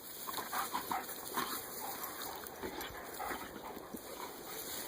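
A dog whimpers and yips in short bursts amid playful splashing and movement, with a steady high-pitched hum in the background.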